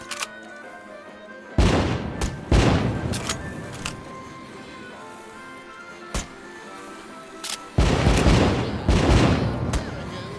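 Fireworks go off in a VR video game, with loud booming bursts and crackling fizzes arriving in separate clusters over a faint background hum, and quiet gaps between the blasts.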